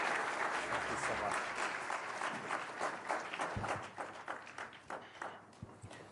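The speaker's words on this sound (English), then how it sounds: "I think you also heard a warm applause that your call to action was well received." A conference audience at the World Economic Forum in Davos applauds after a speech, with steady, fairly soft clapping that thins out into scattered individual claps toward the end.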